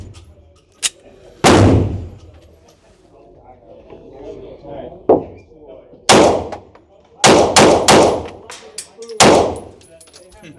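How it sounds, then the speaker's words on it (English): Shotgun firing at an outdoor shooting range on a range day: loud sharp blasts, one alone and then a quick cluster of several, ringing out near the microphone between people chatting. "that gotta be a shotgun"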